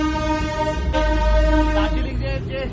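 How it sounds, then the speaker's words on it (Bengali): A Darjeeling narrow gauge toy train sounds steadily, its horn or whistle carrying strong tonal harmonics over a low rumble throughout, with a brief change near the end. "টয় ট্রেন হলো তো, টয় ট্রেন চললাম।"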